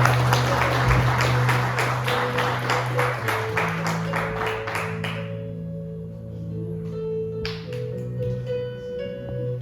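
Strong applause from a church congregation rings out over sustained music chords for about five seconds. The clapping then breaks off while the music carries on, with one brief burst of claps later.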